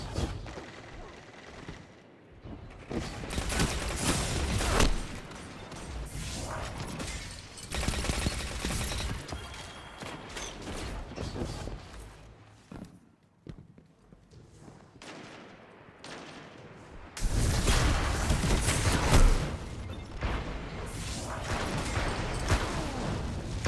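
Rapid bursts of gunfire from the video game Destiny 2, loud and dense, coming in waves with brief lulls between heavy volleys and a sustained barrage near the end.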